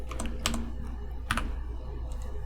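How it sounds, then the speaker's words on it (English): Steady clicky typing on a computer keyboard, several quick keystrokes with brief pauses, close and alone with no talking. "I'm just going to type in signal"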